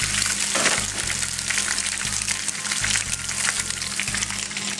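Leftover pre-cooked pasta frying with onion and garlic in a hot pan gives a steady, loud, close sizzle with bright crackle and spatter, and a low hum that pulses on and off throughout.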